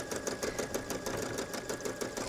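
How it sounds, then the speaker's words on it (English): A sewing machine stitches embroidery onto a twill jacket, running steadily at a quick, even rhythm of needle strokes at moderate level, with no voices. "I'm stitching on the twill"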